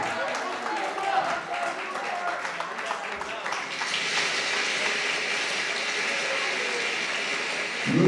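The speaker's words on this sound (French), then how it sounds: "Applaudissez pour le professeur Chamala" Crowd applause at a concert at the Dôme de Paris, with a voice speaking over scattered clapping that then swells into a steady, wash-like roar of applause from a large audience.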